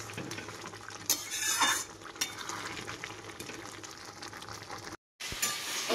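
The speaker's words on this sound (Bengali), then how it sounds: "মশলাটা দিয়েছি আর বেশ ভালো করে একটু কষাবো" Chicken sautés in a pan with a ginger, cumin, chilli, onion and garlic masala: a low sizzle under clattering metal stirring and scraping, close and without speech, with a brief dropout near the end.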